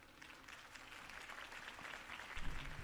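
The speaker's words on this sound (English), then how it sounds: "could have heard that applause" Moderate crowd applause in the video game Batman: The Telltale Series, a steady patter of many hands clapping that swells slightly toward the end, heard at a distance.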